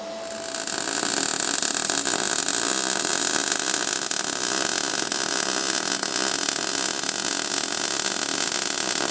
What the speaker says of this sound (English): I'm going to weld the other side of the same joint